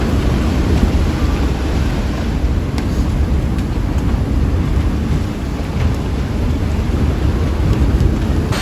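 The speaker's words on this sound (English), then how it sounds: "The rain that was brewing in front of us is now here." Loud, dense rain roars without a break on a sailboat at sea off Japan, mixed with rushing water and wind, with a few sharper impacts standing out.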